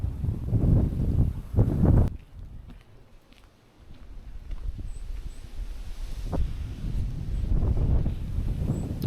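Strong wind on a British coastal walk after rain, buffeting the microphone in loud gusts that drop away briefly in the middle before roaring back.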